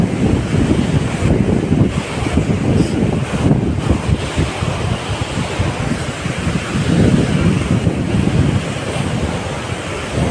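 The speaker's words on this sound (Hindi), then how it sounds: "देखिए कैसे समुद्र की जैसे लहरें उठ रही है यहाँ पर पानी में।" Turbulent water below Mohanpura Dam in Rajgarh roars and churns continuously, a dense rushing wash with wind gusting across the microphone and no voices.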